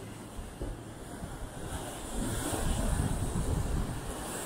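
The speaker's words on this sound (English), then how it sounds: "As you can see, very windy. It's actually hard to hold the camera." Strong wind buffets loudly against the microphone on the seafront at Scarborough North Bay, with surf rumbling underneath and growing heavier partway through.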